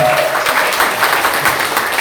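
Congregation applauding during a military church worship service, a dense, loud wash of clapping from a large crowd that stays steady throughout with no talking.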